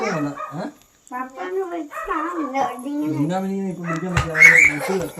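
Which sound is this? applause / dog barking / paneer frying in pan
dog barking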